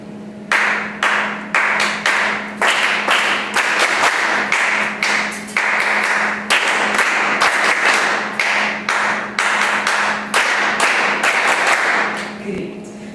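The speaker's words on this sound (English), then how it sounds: "So first I will clap, you listen, and then you will repeat after" Hands clap in sharp, rhythmic bursts, a workshop group repeating clapped patterns together with a steady hum underneath.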